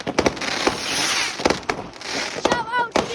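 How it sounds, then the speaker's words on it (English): Fireworks shot from a handheld firework launcher go off in a rapid string of loud, close bangs and crackling bursts, with a brief whistling rise near the end and some voices in the background. "the firework launcher."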